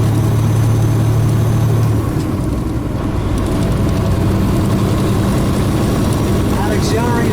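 Heavy truck engine with a 13-speed transmission running through an auxiliary upshift, a steady low drone that dips in pitch around the shift and settles at a new steady tone, with a voice speaking over it.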